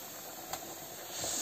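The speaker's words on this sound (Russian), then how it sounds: "Все, вот пар пошел." Steam hisses softly and steadily from a garment steamer, a faint airy rush that swells slightly toward the end.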